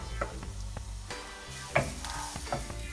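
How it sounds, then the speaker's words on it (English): Finely chopped garlic sizzles in a little oil in a heated pan, a steady close crackle broken by occasional stirring clinks and scrapes, with no talking. "Now on a heated pan, put in a little bit of oil. And now I add in my finely chopped garlic."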